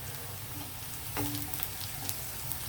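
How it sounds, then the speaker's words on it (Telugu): Cumin and mustard seeds dropped into hot oil give a steady, close sizzle with faint crackles over a low background hum, and no one speaks. "ఇవి కొంచెం వేగాయి కదా జీలకర్ర ఆవాలు వేద్దాం"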